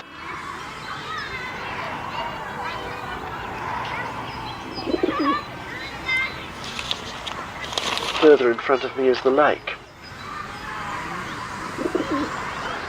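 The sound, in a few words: ducks and pond birds on a lake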